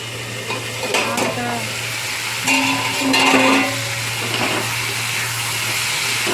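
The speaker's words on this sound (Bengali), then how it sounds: "ভাজা ভাজা করে নেবো সবজিটা, তাই ঢাকা দিয়ে দিলাম।" Vegetables for a banana flower curry with hilsa fish head fry in a lid-covered pan, giving a steady, moderate sizzle with a few light clinks and stirring sounds and no talk.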